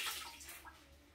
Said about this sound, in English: Strip off the excess water